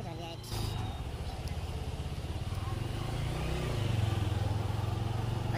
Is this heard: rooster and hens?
no